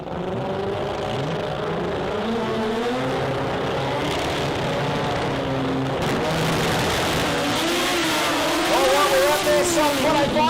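Pro Compact cars in the Australian sports compact drag racing finals at full throttle, a loud sustained engine roar with rising and falling revs under excited commentary that carries on throughout.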